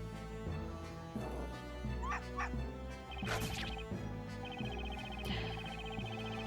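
A small dog yips and barks in Professor Layton vs Phoenix Wright, several sharp high barks and whimpers scattered over steady game music and sound effects.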